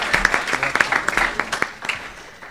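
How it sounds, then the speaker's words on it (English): An audience at the Bronx Tech Summit 2015 gives a brief round of applause, scattered claps building then fading over a couple of seconds, moderately loud in the room. "give them all a round of applause here"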